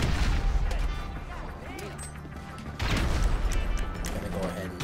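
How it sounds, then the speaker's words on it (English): Grenades thrown in GTA 5 Online combat, heavy blasts and crashing gunfire in loud bursts at the start and again after a brief lull, with talking over the action. "I'm about to huck some nades over there"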